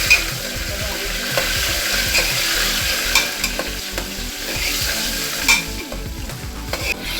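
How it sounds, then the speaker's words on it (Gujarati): Tomato, onion and chili stirred and frying in a pan for vegetable khichdi, with steady sizzling and repeated scraping of a spoon against the pan throughout. "ટમેટા ડુંગળી મરચા ત્રણેય વસ્તુ ચતળી ગઈ છે"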